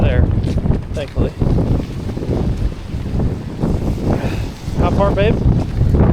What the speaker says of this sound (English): The wind is brutal.